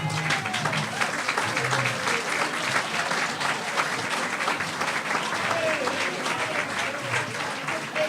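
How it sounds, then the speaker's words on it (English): A hall crowd at a sports hall of fame ceremony applauds the standing committee members with sustained, dense clapping that carries on evenly throughout, with some voices mixed in. "everyone give them a round of applause"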